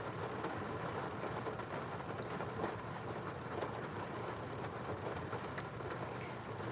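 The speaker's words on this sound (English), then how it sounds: "Why is the rain making me so excited that it picked up?" Rain picks up outdoors and makes a steady, even hiss that fills the whole stretch at low volume, with no pauses and no voices.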